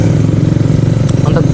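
A 2016 Kawasaki Ninja RR motorcycle engine runs while riding, with a loud, steady two-stroke drone and a fast, even pulse throughout. There is no talking.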